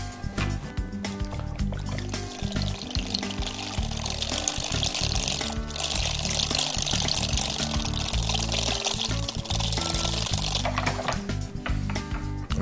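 A hand whisk beats soupy pumpkin pie filling in a bowl, making a continuous, close, wet sloshing and scraping churn that runs steadily throughout without talk.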